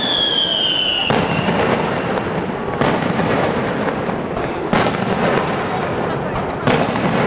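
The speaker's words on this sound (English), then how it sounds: "This is the end of the evening, and they give her a big firework display." A big fireworks display closes an evening celebration at the Church of Santa Maria delle Grazie in San Giovanni Rotondo. A rising whistle is followed by loud, repeated booming bursts and crackling that fill the air continuously.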